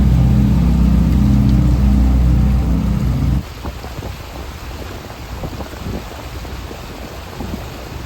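Heavy rain hits a boat, opening with a deep, loud rumble for about three seconds, then a steady hiss and patter of rain that continues alone.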